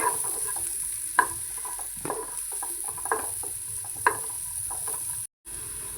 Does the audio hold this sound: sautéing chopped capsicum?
yes